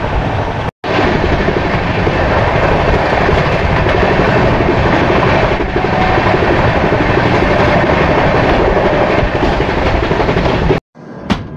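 The Puri–Howrah Shatabdi Superfast Express runs at speed, a loud, continuous roar of wheels and rushing wind with steady rhythmic clatter, broken by brief dropouts at the start and end.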